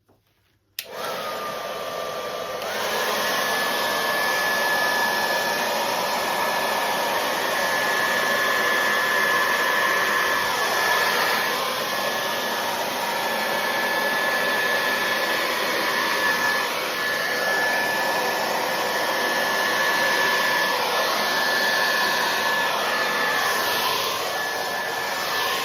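A small handheld blower runs steadily for about twenty-five seconds after a sharp start, a loud, close, continuous whine with no talk as it pushes DecoArt Extreme Sheen paint across a Dutch pour.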